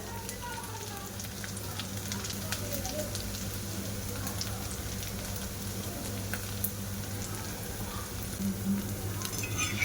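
Semolina pulao fries in a pan with a steady, faint sizzle and crackle that carries on evenly without pause, with no talking.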